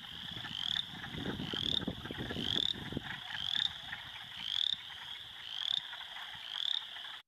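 Michigan wood frogs and chorus frogs call together: a repeated rising trill pulses about once a second over a low clucking, croaking chorus, with light wind noise and no voices.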